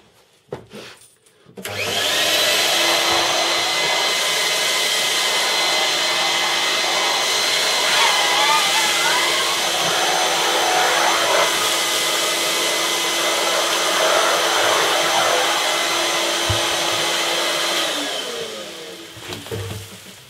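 A homemade high-pressure low-volume dust extractor with a bag and filter in a drum spins up after a brief pause, then roars steadily and loudly for about fifteen seconds before winding down near the end.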